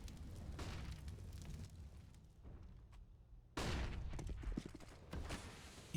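Grenades and flashbangs going off in a Counter-Strike match, heard as heavy low booms and bursts. A big blast lands midway through, followed by rumbling noise that stays fairly far off and muffled.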